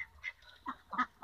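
A duck near its nest gives a few short quacking calls, close by but soft, spaced unevenly over about a second.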